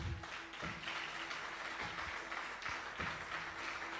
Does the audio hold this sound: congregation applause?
yes